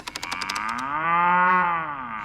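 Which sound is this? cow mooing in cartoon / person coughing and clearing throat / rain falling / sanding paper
cow mooing in cartoon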